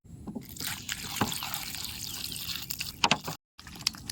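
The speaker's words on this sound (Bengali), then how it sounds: "সবজিগুলো রে বেশ কয়েকবার জল পাল্টায় পাল্টায় ভালো করে ধুয়ে নিছি" Vegetables, including brinjals, green chillies and a piece of ginger, being rinsed in water for a rustic village dish, with soft trickling and splashing and a few sharper handling knocks close by, no talk.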